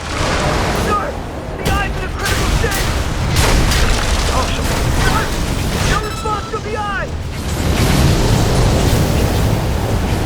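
Deep booming explosions from the mech combat video game Armored Core 6 roll out loud and continuous, with whistling, sweeping tones above and a layered game soundscape throughout.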